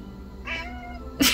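A hungry house cat meows nearby, a clear drawn-out cry followed by a sharper, louder meow at the end, alone with no talk.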